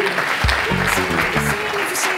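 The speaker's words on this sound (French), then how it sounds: "On l'applaudit ?" An audience at an organic products award ceremony applauds an arriving presenter. The clapping runs under steady background noise and low tonal sounds, with no speech over it.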